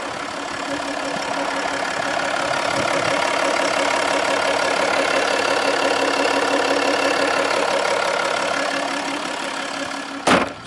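A Jaguar XF 3.0 V6 S Portfolio automatic idles steadily with the bonnet open, a smooth, even hum heard close by, ending with a brief sharp knock or thump.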